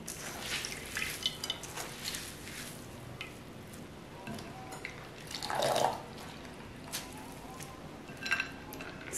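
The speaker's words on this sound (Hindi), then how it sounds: "बहुत दबा दबा के आपने इसका पानी निकालना है।" Water drips and trickles from pressed boiled potatoes in a kitchen strainer while potato kababs are being made. Faint, irregular patters and splashes come through for several seconds, with one brief louder gush near the end.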